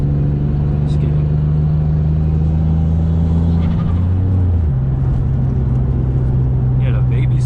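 A street-tuned single turbo Infiniti G35 holds a loud, steady engine drone from inside the car, dipping and shifting pitch partway through before settling again, with a voice briefly heard.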